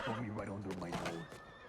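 A horse whinnies close by in a short, wavering neigh with rising and falling pitch, followed by a faint high tone; a voice speaks over it.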